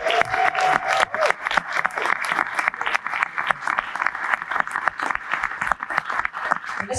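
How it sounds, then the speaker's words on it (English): A crowd at a porridge-making championship in Carrbridge, Scotland, applauds the volunteers with dense, steady clapping that runs throughout, close and lively. "Please, can I have a round of applause for the volunteers?"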